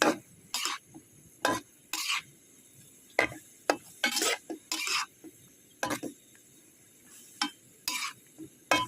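Straw mushrooms being stir-roasted in a pan, with a utensil scraping and clinking against the metal in irregular bursts, fairly close and quiet, separated by short pauses with faint background hiss.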